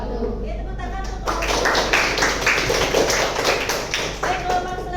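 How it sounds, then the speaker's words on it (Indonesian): Dense, steady clapping from a group of students in a classroom after a group presentation, sustained through the whole stretch, with some voices mixed in underneath. "tepuk tangan untuk"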